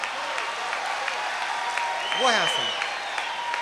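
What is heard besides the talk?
audience clapping at a kavi sammelan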